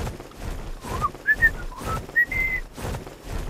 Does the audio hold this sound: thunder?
no